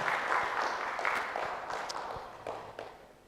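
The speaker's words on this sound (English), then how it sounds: "A big clap for Professor." A conference audience claps for a professor, with fairly faint, scattered applause that gradually tapers off and a few louder individual claps standing out.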